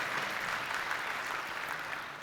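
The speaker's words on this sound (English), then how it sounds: "Yes, thank you, guy that's clapping." Applause from an audience at a conference presentation during EVE Fanfest 2012, a steady wash of clapping hands throughout, moderately distant and with no talking over it.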